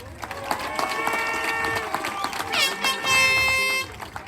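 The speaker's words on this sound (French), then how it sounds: "Et on peut les applaudir bien fort." A crowd at the Les Sables d'Olonne harbor applauds and cheers as the sailboat crew of L'Esprit d'équipe returns from the Ocean Globe Race, with loud air horns blaring over the clapping and voices.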